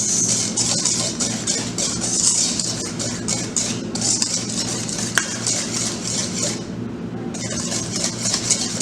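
A spoon stirs a creamy snack mixture after a teaspoon of vanilla goes in. Continuous scraping and swishing against the bowl runs throughout, with a short pause near the end and no talk.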